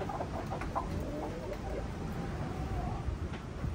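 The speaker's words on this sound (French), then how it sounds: "Ah voilà le coq." Rooster and hens in a coop, clucking and calling amid scuffling, with steady low outdoor rumble and a voice speaking over the birds throughout.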